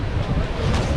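Niagara Falls thunders nearby as a dense, loud wash of roaring water, with wind buffeting the microphone in a brief burst.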